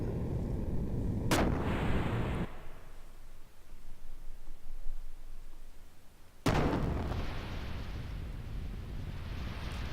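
A ship's heavy deck guns fire in the video game Xenogears, giving two loud booming blasts several seconds apart, each with a long rumbling, roaring tail.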